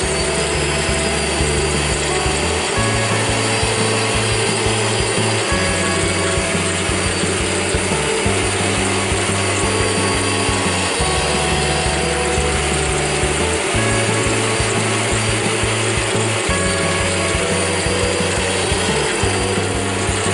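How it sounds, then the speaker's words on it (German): A drill with its bit moved sideways through wood to mill a slot, producing a loud continuous grinding whir that rises and falls in regular rhythmic cycles of a few seconds each, steady and close for the whole stretch, with no talk. "am Bohrer so hin und her fahren kann, so ein bisschen Fräsen spielen kann"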